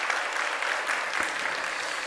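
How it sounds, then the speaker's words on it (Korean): A church congregation at a Sunday afternoon service breaks into applause, a dense, even burst of many hands clapping together, close and steady for a couple of seconds. "다시 한번 박수합니다"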